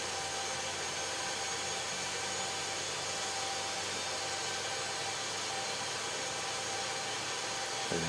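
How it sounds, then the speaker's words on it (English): In the DCS video game, an AH-64D Apache's turbine engine spins up during startup, a steady, faint whooshing whine that holds constant throughout. "Engine one is starting."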